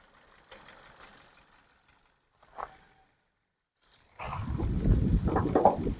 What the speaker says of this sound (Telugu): ఇంజన్ స్టార్ట్లో ఉంది